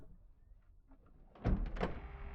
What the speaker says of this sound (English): So we're going to start by closing the door